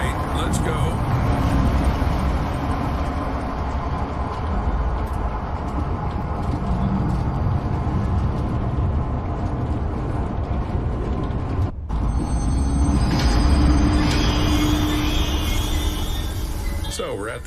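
Train in the video game Zoochosis starting off and running: a steady, dense mechanical rumble with clattering, ratchet-like detail, briefly cutting out near the end before carrying on.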